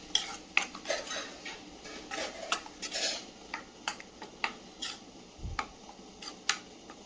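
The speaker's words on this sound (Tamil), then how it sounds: "தக்காளி வெங்காயத்தை ஆட் பண்ணிக்கலாம். இது நல்லா வதங்கட்டும்." Tomato and onion sautéing in a pan for a cauliflower gravy, with a spoon scraping and clinking against the metal in an irregular series of close, moderately loud strokes over a faint background hiss.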